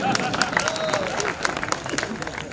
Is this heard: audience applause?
yes